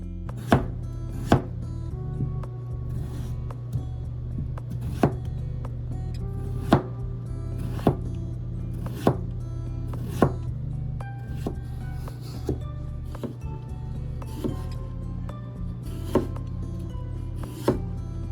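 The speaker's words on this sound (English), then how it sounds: "peeling our pre-washed potatoes" Pre-washed potatoes are peeled and cut on a board, giving regular sharp knocks roughly every second over a low steady hum, close and clear with no speech.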